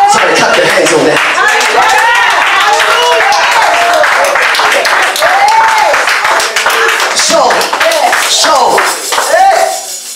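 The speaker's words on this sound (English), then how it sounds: "clap your hands on that" A church congregation claps during a bishop's sermon, loud sustained applause under excited shouting and voices, with bright clinking accents throughout.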